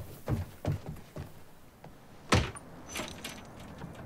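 Keys jangle in the game Quantum Break, a few short metallic rattles spaced apart followed by a sharper clack and lighter clinks, close and quiet with no talk.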